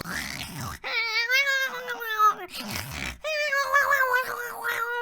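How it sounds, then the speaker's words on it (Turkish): Cats meow in Minecraft, two long, drawn-out, wavering cries following one another loudly and close. "Kedi mi lan bunlar? Hey pisi pisi gel buraya."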